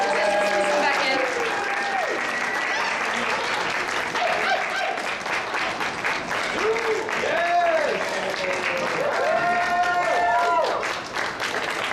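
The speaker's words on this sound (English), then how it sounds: "I think they all deserve a round of applause" An audience at a sci-fi cosplay contest applauds the contestants with steady, loud clapping sustained for about twelve seconds, accompanied by scattered voices and cheers throughout.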